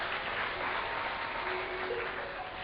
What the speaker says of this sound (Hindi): ताली बहुत कमजोर बजी है